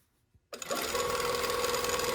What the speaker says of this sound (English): when I get up to the front, I'm going to do a 1/4 inch top stitch